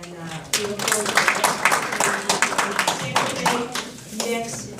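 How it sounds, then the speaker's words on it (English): Audience clapping at a Pinellas County community working group meeting, a burst of many hands at close range that swells and holds steady, with voices talking over it. "So give yourselves a round of applause"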